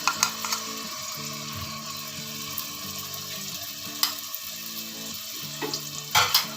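Ginger garlic paste fries in a pan for garlic rice with chicken, giving a steady close sizzle with a few scraping stir clicks, background music, no speech.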